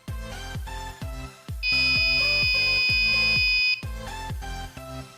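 Buzzer on an Arduino gas detection module, a sustained shrill electronic tone lasting about two seconds that plays over background music.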